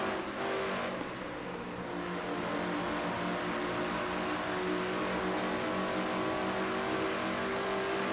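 A video game race car engine, a Ford stock car at Auto Club Speedway, drones loud and continuous, its revs rising and holding steady at a high pitch, with no voices over it.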